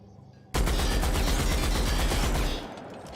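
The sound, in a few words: rapid gunfire in video game The Outer Worlds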